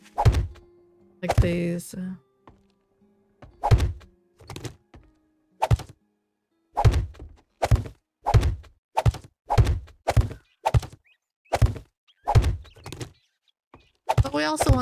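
Repeated heavy thunks of trees being chopped down in the survival game 7 Days to Die, evenly spaced whacks in a steady rhythm, with someone talking briefly at the start and end.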